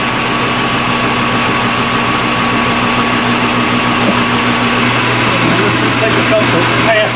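A machine bores out a pulley spacer for a lower pulley on a Ford engine, giving a loud, continuous motor whine with a steady cutting hum that roughens slightly toward the end.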